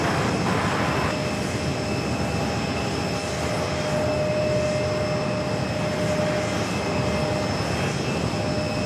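An airliner rolls along runway 4 right at New York's JFK airport after landing, giving a steady, loud broadband engine roar with a faint whine that holds evenly throughout, with no voices.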